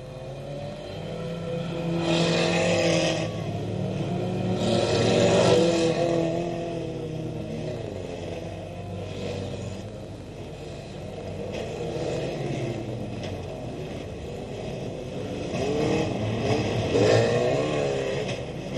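Race cars at a 1982 Smallfield meeting pass by in several surging waves, engines rising and fading at moderate distance over a steady background rumble, with no talk.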